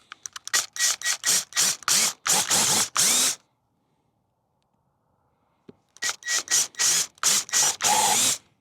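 Power drill boring screw holes for a DIY fishing sonar mount, with a bit sized just larger than the screws: a series of short, loud drill bursts, a pause of near silence, then another run of repeated bursts, all close up.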